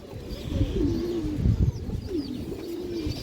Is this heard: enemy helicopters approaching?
no